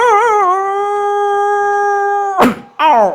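On a stage at a regional cultural event, a man imitates a puppy howling a song, a long steady wavering howl that breaks into a short loud yelp and a rising whine near the end.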